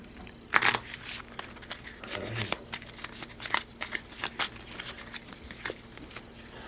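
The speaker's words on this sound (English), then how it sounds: "this goes back in the deck. We shuffle it back up." Cards being shuffled repeatedly, a series of crisp riffling bursts and soft taps, close by with no voices.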